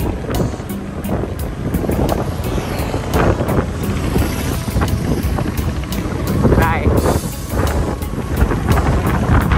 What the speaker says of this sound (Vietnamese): Gió lắm luôn cô chú.